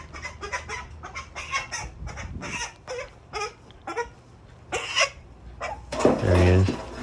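Backyard chickens clucking repeatedly in short bursts, fairly close, with a louder squawk near the end as a bird is caught for processing; background shuffling and movement sounds throughout.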